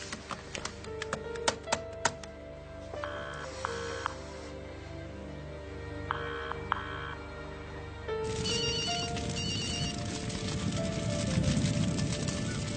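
Through a television drama's soundtrack, a telephone trills in short double rings, repeating a few times in the first half amid tapping and background music, before a louder wash of sound takes over.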